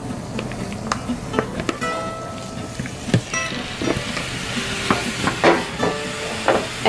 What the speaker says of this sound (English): Now that I have the meat cut up, I'm going to add it into the pan.